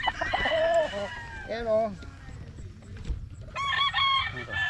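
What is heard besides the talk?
gamefowl roosters crowing and clucking, Boston Roundhead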